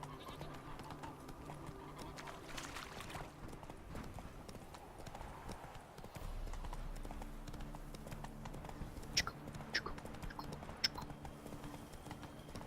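Horse hooves clip-clopping along a road in The Witcher 3, a steady rhythmic trot at moderate distance, fairly faint, with a few sharper knocks toward the end.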